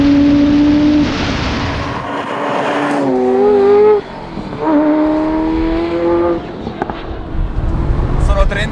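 A Ferrari F40 supercar taking a tight corkscrew bend, its engine droning loud and close, the pitch dipping and climbing as the throttle eases and picks up through the curve.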